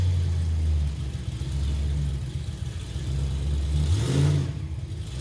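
A Chevrolet Impala's fuel-injected engine drives along at a steady mid-pitched hum, with a brief rising rev near the end and no talk over it.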